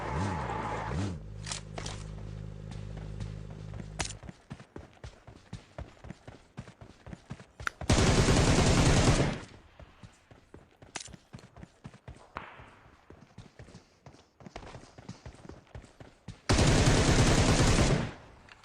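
Shotgun gunfire from a DBS in the PUBG battle royale video game: scattered sharp shots punctuated by two loud, sustained bursts of fire, with other game sounds throughout.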